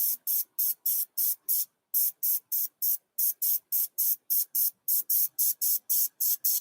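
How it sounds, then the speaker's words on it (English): An airbrush sprays paint onto a duckling artwork in short, regular bursts of close, bright hissing, about two per second, each cut off cleanly by brief silences. "if I use the colour which is in the airbrush on an area which is quite light, so I'll use it on his cheek here"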